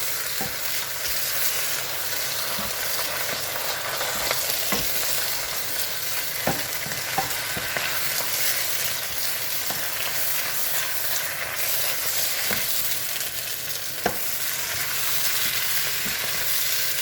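Spinach sizzles and hisses steadily as it fries in a pan, with scattered scrapes and taps from stirring breaking through the constant close frying noise.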